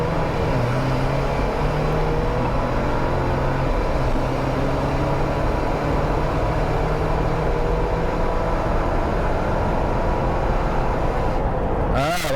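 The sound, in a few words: Jeep accelerating 0 to 60 at wide open throttle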